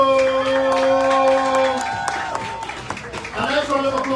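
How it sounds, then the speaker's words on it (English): A crowd at a pepper-eating contest at a shopping plaza applauds and cheers the winner, with clapping and whoops under a sustained tone and an announcer's voice amplified over a PA. "Give a nice round of applause for our winner this afternoon."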